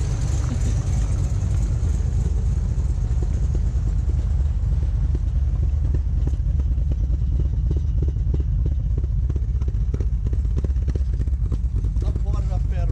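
A VF Maloo ute with an LS3 engine and a big cam throbs loudly at a deep rumbling, lumpy idle that builds, while its rear wheels spin. The engine is close and fills the whole stretch.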